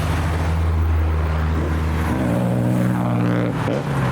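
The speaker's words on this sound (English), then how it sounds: "He's got a Mark II Escort RS 2000" A Ford Mark II Escort RS 2000 arrives at a car show, its engine droning steadily close by and then rising and shifting in pitch as it moves off, with no talking.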